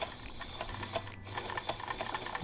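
A sewing machine runs steadily while fabric is guided along a curved seam, its fast needle chatter continuing close and alone with no voices.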